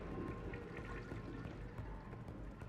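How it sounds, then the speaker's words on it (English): A toilet flushes in the video game Deus Ex: Human Revolution, a faint watery rushing and pouring that runs steadily under the game's background sound. "Y'all hear the toilet flushing?"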